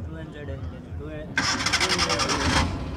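A 2011 Toyota Corolla XLi with a 1300cc petrol engine cranks briefly and fires into a rattly idle at a Karachi used car market, while someone talks nearby before and during the start.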